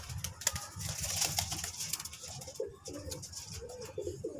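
Pigeons coo softly in low, repeated calls, with light rustling and scattered chirps around them, fairly close.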